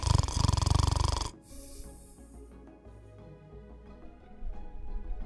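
A man imitates a snoring sound with his voice, a loud rasping burst at the start, then a quieter stretch of layered game-like tones and hum that grows louder again near the end.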